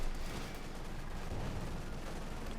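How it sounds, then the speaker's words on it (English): Explosive rounds and artillery-style blasts in a Company of Heroes 2 battle, pounding against German gunners as a dense, continuous rumble of booms and gunfire. "High explosive rounds just flying against the Fultz gunners there."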